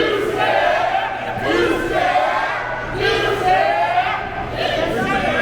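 A wrestling arena crowd roars and chants in rising and falling swells, loud voices surging every second or so, with a faint steady hum underneath and an announcer's voice talking over the noise.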